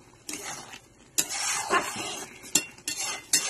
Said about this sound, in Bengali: এই যে দেখো কিশমিশটা মিশিয়ে দিচ্ছি